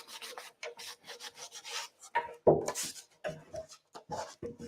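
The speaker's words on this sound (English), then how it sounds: "Just kind of depends on the surface that you're sanding." Short, dry rubbing strokes of fine 220-grit sandpaper in a steady back-and-forth rhythm, fairly quiet and close, with brief pauses between passes.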